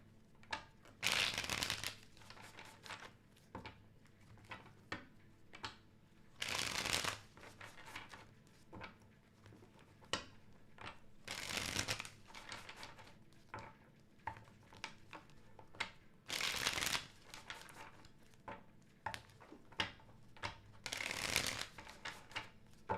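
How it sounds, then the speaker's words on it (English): Tarot cards being shuffled in repeated bursts, each a loud riffling flutter lasting about a second, separated by quieter pauses, with five or so shuffles in sequence. "Let me shuffle some more cards, and we are almost done here."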